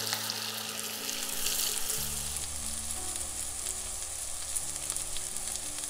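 Onions frying for beresta, a dense continuous sizzle close up and fairly loud, with an even hissing crackle throughout and no voices.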